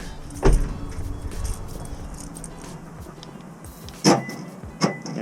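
Door of a 2018 Toyota Tacoma slammed shut with a sharp thud, followed a few seconds later by a second solid slam and a lighter click, nearby and otherwise quiet.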